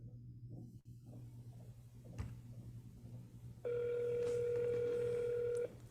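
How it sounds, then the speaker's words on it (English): Telephone ringback tone on an outgoing cold call, a single steady electronic ring lasting about two seconds after a quiet line hum with a click, heard through the handset. "Let's try to get someone on the phone, shall we?"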